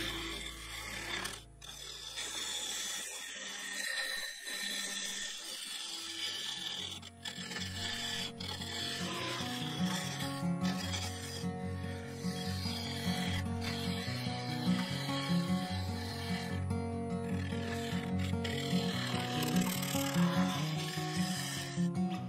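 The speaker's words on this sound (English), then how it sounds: "This was done with a bowl gouge, mainly shear scraping, removing as much material as I dare." Bowl gouge shear scraping the inside of a sapele segmented vase on a woodturning lathe: a continuous rasping, rubbing scrape over a steady machine hum, loud and close, with no talking.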